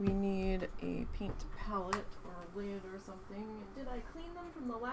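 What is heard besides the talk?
No everyday noises stand out.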